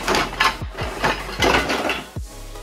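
A metal kadai being handled in a home kitchen, with several clanking knocks and scrapes of metal against a hard surface, close and loud, in an uneven rhythm.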